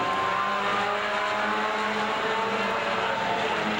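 Midwest Truck Tour race vehicles roar through the corner of an oval track and down the back straightaway, a loud continuous engine drone with faint tire squeal.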